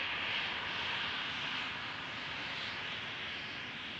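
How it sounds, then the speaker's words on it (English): A KLM Embraer 190 jet departing Amsterdam Schiphol sends out a steady, loud engine roar with a hissing upper edge that holds through the moment and eases very slightly toward the end. "KLM flight 1445 Embraer 190 going to Aberdeen."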